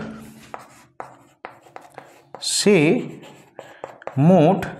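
Pen writing an answer on paper during a Class 5 math lesson, heard as a run of short, close scratchy strokes and taps, with a voice speaking over the later part.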